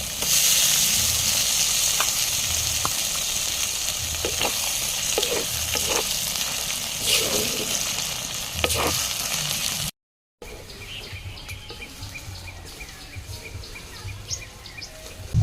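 Steady oil sizzle and frying hiss of ginger-garlic paste in a hot pan with fried onions, with occasional clinks of stirring and a brief dropout near the end.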